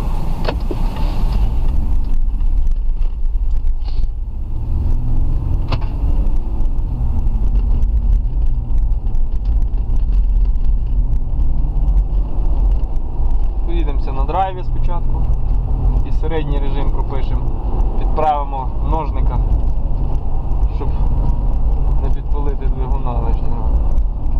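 A Mitsubishi Pajero 3.0 with an LPG gas system drives along, its engine a steady low rumble and road drone throughout, with a voice talking over it in the latter half.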